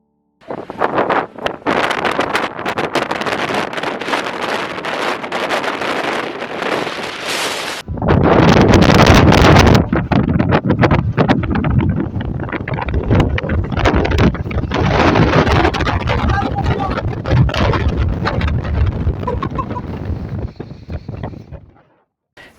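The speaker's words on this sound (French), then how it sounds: "il y a toujours du vent." Strong wind buffets the microphone at the Aber de Bovinant mountain pass in the Chartreuse range, a loud continuous roar with gusting surges, one especially forceful blast, and no talking.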